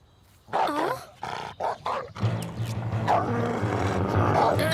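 A cartoon dog in a French animated series growls and snarls in short rumbling bursts, then a steady low growl continues, close and fairly loud.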